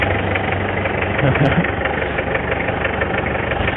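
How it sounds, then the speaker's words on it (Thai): A van engine idles with a steady, even rumble, close and continuous, with a faint voice briefly underneath. "เสียงเครื่องนิ่มดีเลย"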